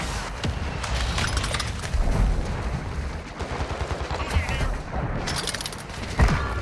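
Mortar strike explosions in Call of Duty: Modern Warfare II come as a dense run of booming blasts and gunfire, loud and continuous across the whole stretch with heavy low rumble and sharp cracks.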